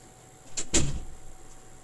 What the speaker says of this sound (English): Let me just close my door